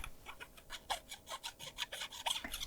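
Quiet rapid scratching of the textured plastic grip of a PDP Stealth Series gaming controller, a series of short raspy strokes in quick succession, close up.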